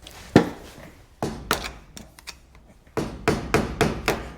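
A hammer taps on a GM front spindle to drive out a castle nut, giving sharp metallic blows in a loose irregular rhythm with a quick cluster of strikes toward the end.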